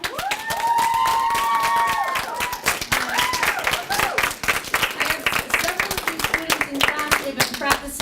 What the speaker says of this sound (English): could we have a huge round of applause for